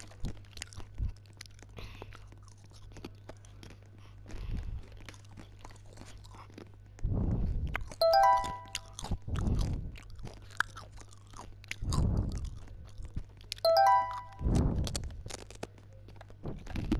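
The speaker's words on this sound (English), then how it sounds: "You guys might hear me munching something because I'm eating crisp." Crisps being eaten close to the microphone: loud crunchy bites come in irregular bursts separated by quieter stretches, with faint game chimes in between.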